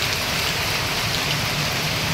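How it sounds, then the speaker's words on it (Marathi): Rain pours steadily, a dense, continuous hiss of drops striking surfaces, close and fairly loud with no voices. "पण आता पाऊस पण पडायला लागला"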